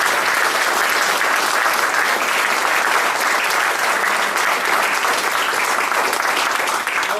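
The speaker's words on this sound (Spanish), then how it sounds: "Está acá Edgardo Pinchelli, le pido un aplauso" Steady, loud applause from an audience at a cinema event, dense and sustained without a break.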